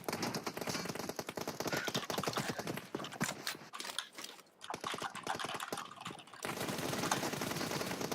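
Rapid automatic gunfire sprays in a PUBG Mobile team deathmatch, dense bursts of rattling shots running almost continuously with a brief lull in the middle before the firing resumes loud and steady.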